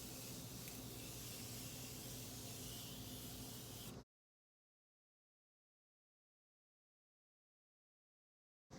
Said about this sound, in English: give myself a quick spritz of the Morphe Continuous Setting Mist